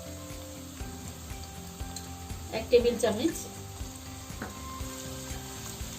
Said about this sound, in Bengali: আদাটা একটু আমি ভাজাভাজি করব।